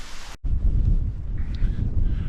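After a brief sharp cutoff, low rumbling wind buffets the microphone continuously on a cold, open moor in Northumberland, loud and close, with faint distant sounds behind it.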